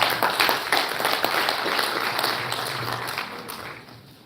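Audience at a live Uganda National Examinations Board event gives a steady round of applause, a broad even clatter of many hands that slowly fades.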